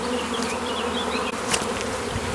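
Honey bees hum steadily at an open, queenless hive during a frame inspection, a dense continuous buzz close by with a few louder individual bees passing near.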